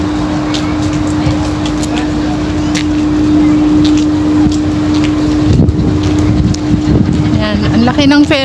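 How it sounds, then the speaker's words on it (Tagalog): A large ferry crossing the sea between Matnog and Allen, Samar produces a steady engine drone with a sustained low hum, mixed with wind buffeting the microphone, while people talk nearby toward the end. "Laki ng ferry boat, oh, sasakyan namin."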